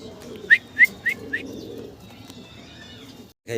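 Danish fancy pigeons, with four short rising whistled coo notes in quick succession against a quiet indoor background, followed by faint soft calls.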